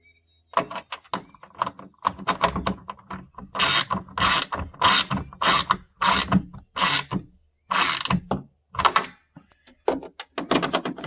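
Ratcheting hand tool tightening nuts on the rear hatch spoiler of a Toyota Prius: close, crisp bursts of pawl clicks in a steady rhythm of repeated strokes, with short pauses between tightening runs.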